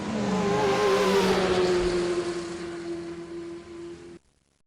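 Hot Wheels die-cast toy cars, including a Ford GT and a Lamborghini Gallardo, roll down a plastic track with a continuous loud whirring rumble that fades slightly, then cuts off abruptly near the end.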